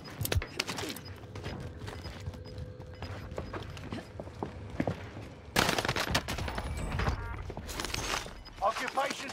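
Gunfire in Call of Duty Warzone on Rebirth Island, with bursts of shots cracking through steady game noise and a sharp, louder flurry of fire near the end, under occasional talk.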